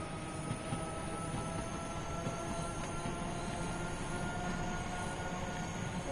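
Steady rumbling train run from a railway video game, a continuous dense rolling roar with faint squealing wheel tones, even and unbroken.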